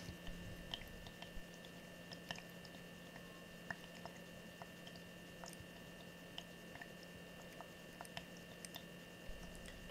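A small tabletop aroma diffuser with humidifying function runs quietly, giving a faint, steady hiss with soft bubbling and occasional tiny ticks, heard close with no talking.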